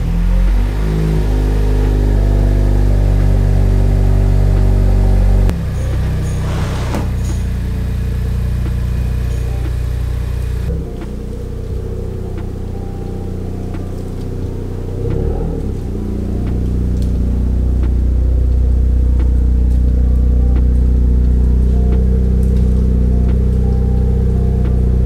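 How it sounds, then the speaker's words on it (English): A 10th-generation Honda Civic idles and creeps while reversing into place, its steady low engine drone loud and close throughout, with a slight shift in tone midway and no voices over it. "let me reverse this car back in"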